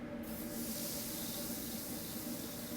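A steady aerosol hiss from a spray can, continuous and close, lasting a few seconds without any voices.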